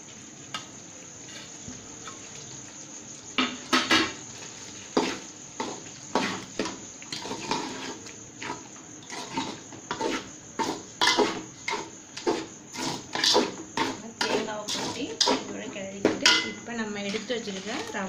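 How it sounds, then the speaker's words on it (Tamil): Grated coconut is stirred into thickened sugar syrup in a pan, with rhythmic spoon scrapes and clinks against the metal repeating steadily and close over a constant high background hum, no one speaking. "இப்போ பாருங்கள் நம்மளோட தேங்காயை இதோட கொட்டி கிளறிக்கலாம்"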